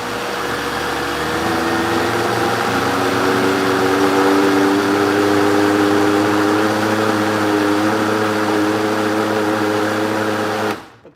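A vacuum blender chops smoothie ingredients with a loud, steady motor whine and droning hum that holds for about ten seconds before shutting off abruptly, with no talking.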